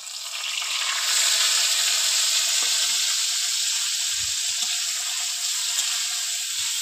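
Prawns hit hot oil over already-fried garlic and burst into a loud, steady sizzle that holds throughout, with a few faint clinks of stirring underneath.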